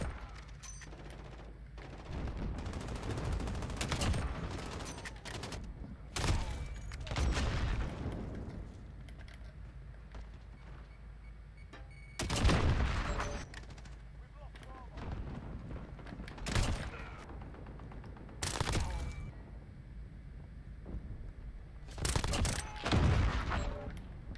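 Unsuppressed sniper and gunfire in Call of Duty Modern Warfare: a series of loud, separate shots and bursts spread across the clip, with quieter gaps between them.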